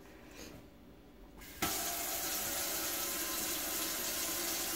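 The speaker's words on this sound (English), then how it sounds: "now we are going to fill it at least halfway full of water." A plugged sink starts filling from the tap: after a quiet start, the water suddenly gushes on and keeps pouring in a loud, steady, close rush for the rest of the moment.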